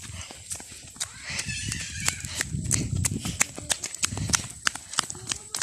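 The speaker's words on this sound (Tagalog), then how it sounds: "May kabayo dito." A horse neighs while hooves clip-clop in a steady walking rhythm on a hard surface, close and fairly loud, with faint voices in the background.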